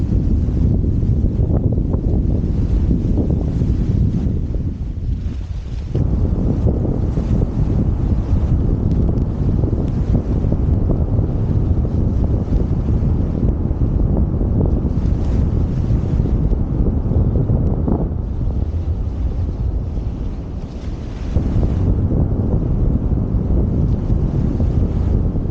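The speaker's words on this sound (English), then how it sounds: "As you can hear, it's fairly windy" Strong wind buffets the microphone on a riverbank along the River Blackwater at Bradwell while fishing, a loud continuous roar with brief lulls and no speech.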